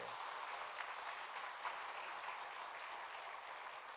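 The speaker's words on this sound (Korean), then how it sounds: "먼저 한번 큰 박수로 환영하겠습니다." A church congregation at a family worship service claps to welcome visiting guests: steady, dense applause filling the whole stretch at an even level, with no voices over it.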